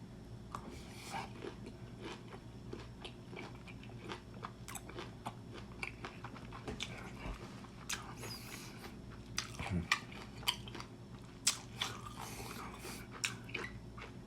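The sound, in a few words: eating the remaining half of a lime/grapefruit, chewing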